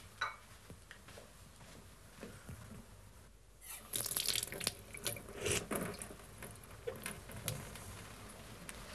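Water runs from kitchen taps, a faint rushing splash that starts a few seconds in and continues with uneven gurgling and dripping, close and moderately loud against quiet room noise.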